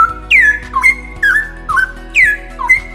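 Loud, rich straw-headed bulbul song of repeated liquid warbling phrases, each a bubbling whistle, coming in regular bursts with short pauses between.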